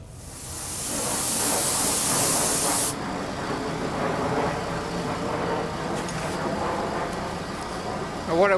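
A spray gun sprays clearcoat paint onto a car in a loud, close hissing burst lasting about three seconds, followed by quieter shop noise with a voice speaking underneath.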